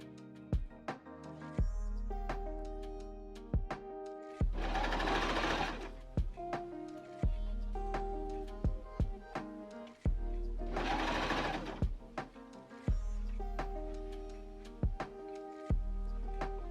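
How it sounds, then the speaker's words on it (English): A sewing machine stitches a waistband to a top edge with right sides together for a witch costume, running in steady bursts with a clear pause partway through, close and alone. "I'm going to sew those right sides together"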